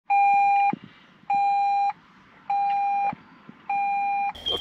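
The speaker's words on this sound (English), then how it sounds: "The Land Cruiser beeps when the doors open." Door-open warning chime from a Toyota Land Cruiser 300 parked in accessory mode with the doors open: four clear, evenly spaced electronic beeps, each lasting under a second, sounding close and alone against a quiet background.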